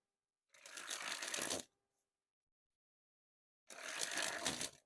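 A deck of Bicycle Cocktail Party playing cards is sprung from hand to hand twice, each a dense fluttering riffle of about a second, heard close and crisp with silence between.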